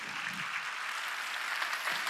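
A church congregation breaks into steady applause, a dense patter of many hands clapping together at a moderate distance, continuing evenly for about two seconds with no talk.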